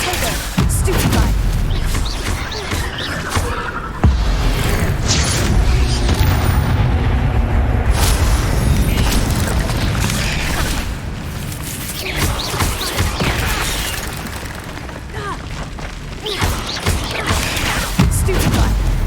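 Repeated spell blasts crack and boom in Hogwarts Legacy combat, a dense, loud run of impacts and bursts, with a player's voice calling out over the action.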